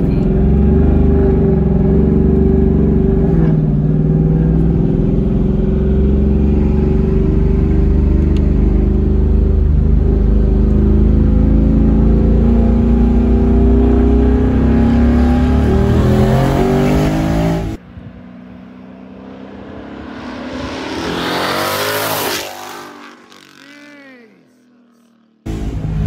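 A twin-turbo 2019 Mustang GT with 3-inch straight pipes roars loudly and steadily at close range, then cuts off and surges again in a sharp rev before dropping quiet.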